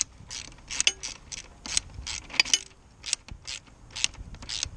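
Rapid ratchet clicking from a socket wrench tightening bolts on the rear wheel of an Aprilia RS125 motorcycle, repeated short bursts of close metallic ratcheting in a quick uneven rhythm, with no voices.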